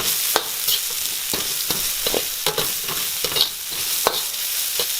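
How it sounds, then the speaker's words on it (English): Shallots and spring onion stems stir-fried in a hot pan for a beef, ginger and shallot stir-fry, a loud steady sizzle punctuated by regular sharp scrapes and taps of the spatula. "Now this won't take long to stir fry"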